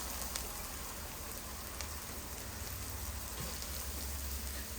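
Broccoli sizzles in a pan with vegetable stock, a faint, even hiss that sounds like light rain and runs on without a break.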